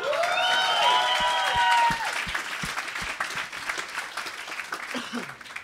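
A comedy club audience at a stand-up show applauds and cheers loudly for about two seconds, with whoops and whistles rising over dense clapping, then the clapping thins out into a softer, scattered patter as a voice starts speaking.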